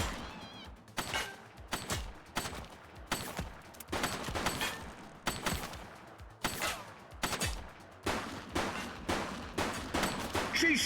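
Repeated loud bursts of gunfire in the police video game The Precinct, sharp shots and rapid volleys clustered throughout with brief gaps, no talking.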